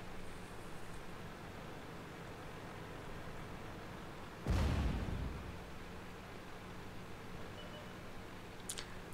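A single deep artillery blast fired in a tank video game, rising sharply out of a steady hiss of background noise and fading over about a second, with a faint sharp click near the end.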